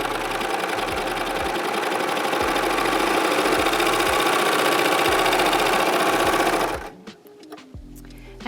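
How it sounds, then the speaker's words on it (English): Serger stitching a 4-thread overlock along frayed fabric edge, trimming it straight, with a fast, loud, steady mechanical whirring hum close up that runs continuously then stops abruptly, followed by a few small clicks. "So we're going to do a 4-thread overlock."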